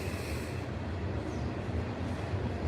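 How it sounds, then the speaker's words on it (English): A train rolls past a porch with a steady broadband rumble and rattle of rail cars, continuous and fairly loud throughout, no voices over it. "when this train gets by"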